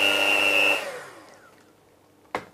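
An electric mixer beating chocolate cupcake batter gives a loud, close, steady whine that cuts off after under a second and spins down, followed by a single soft knock.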